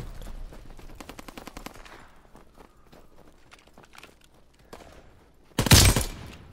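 Gunfire in Call of Duty on PS4, a rapid burst of automatic shots early on, scattered footsteps and quieter shots, then one loud close blast near the end.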